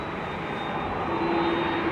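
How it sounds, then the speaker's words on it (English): A Delta Airbus A330's jet engines spool up as it starts to taxi at Amsterdam Schiphol Airport, a steady distant roar with a thin high whine that swells slightly, heard alone. "All of a sudden I heard it some spooling up, but that was just the Delta starting to taxi."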